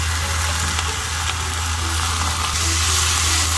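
Meat and vegetables frying on a hot plate for nutria cheese dak-galbi, a steady close, loud sizzle hissing without pause and no voices.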